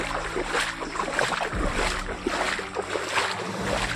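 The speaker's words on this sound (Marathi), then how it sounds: "नदीवर इथपर्यंत आवाज येऊ राहिला, इतकं पाणी चालू आहे" River swollen after heavy rain, water rushing in a continuous broad roar, steady and fairly loud with faint rumble underneath, no talking.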